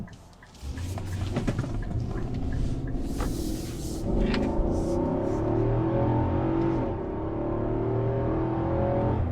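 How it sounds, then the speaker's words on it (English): Infiniti QX80 luxury SUV with Nissan's 5.6 liter V8 accelerating from inside the cabin, a steady engine hum that swells after a quiet start, with rising tones as it gains speed. "There's 50, so pretty good acceleration out of the V8."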